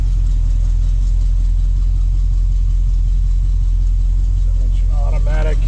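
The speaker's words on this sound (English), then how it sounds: "Starts right up. Sounds good. Idling just about 600 RPM." A 1967 Camaro convertible restomod idles at about 600 RPM, a steady, loud, deep rumble with an even low pulse, and a voice comes in briefly near the end.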